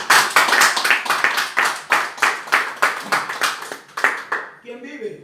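A church congregation claps for the Lord in a fast, steady rhythm, many hands together in a reverberant room, the sound thinning toward the end as voices and murmur rise beneath it.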